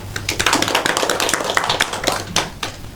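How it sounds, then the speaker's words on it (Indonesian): A classroom of students applauds with many scattered, overlapping hand claps in dense bursts over about three seconds, fairly close and lively, with a faint low hum underneath. "Tepuk tangan untuk kita semua."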